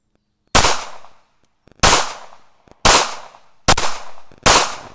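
Five sharp gunshots from a Ruger LCP Max pistol fired at a target, loud and close, spaced roughly a second apart, each with a short decaying tail, no talking.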